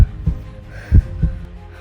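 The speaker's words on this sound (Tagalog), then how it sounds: "Parang naririnig na siya sa camera kasi lakas ng tibok ng puso ko." Loud heartbeat after climbing stone steps on a hiking trail, heard as two pairs of deep, close thumps in a quiet moment with no talking.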